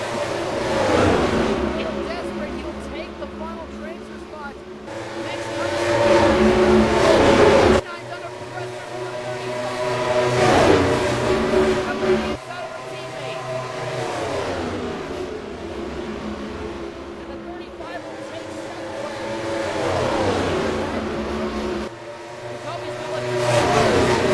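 Race cars accelerating around a track at a Six Flags Cup Series duel, loud engine roars rising and falling in waves across the whole stretch, with voices talking over them.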